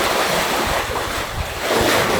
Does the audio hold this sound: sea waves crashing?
yes